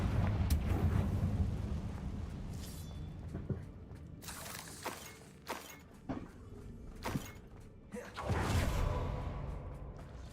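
A Confringo fire spell explodes in Hogwarts Legacy, a wizarding action game: several sharp crackling bursts and whooshes come in quick succession, with a larger blast near the end.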